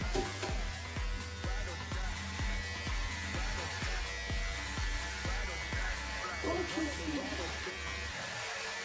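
An electric hair clipper buzzes steadily at close range while cutting hair during a home haircut, its hum running throughout under ongoing conversation between two people.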